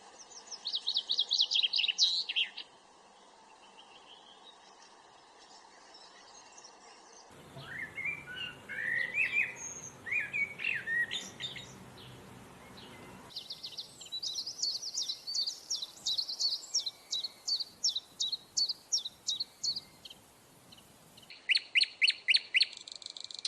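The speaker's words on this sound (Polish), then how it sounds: "Posłuchajmy jeszcze dosłownie kilku gatunków ptaków." Songbirds of several different species sing in turn: high, rapid chirps and trills, then warbling phrases and repeated whistled notes, each bird clear and alone against quiet background hiss.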